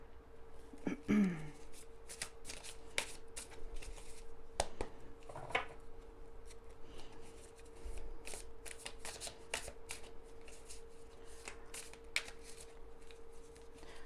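Tarot cards are shuffled close up for a long run of crisp riffling and sliding flutters with sharp slaps in between, with faint background hum and no talking.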